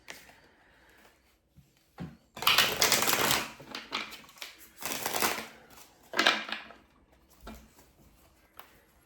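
Tarot cards being shuffled close up, in several bursts of crisp riffling and slapping separated by short quiet pauses, with no talking over them.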